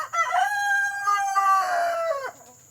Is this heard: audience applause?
no